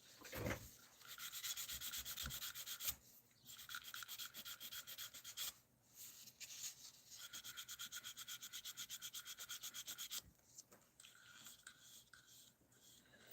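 Hand sanding wood with 400 grit sandpaper: quiet, rhythmic back-and-forth rubbing strokes, close up, in short bursts with brief pauses and a fast run of strokes near the end.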